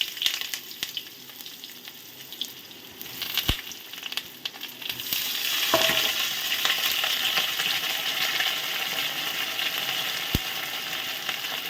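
Sliced pointed gourd frying in oil with cumin, a steady broadband sizzle that swells and grows louder partway through as the pieces settle into the pan, with occasional sharp clicks of utensils.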